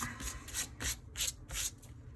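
An embossing buddy is rubbed back and forth across paper in about five brisk, evenly spaced strokes, each a soft papery swish heard close up with no talk.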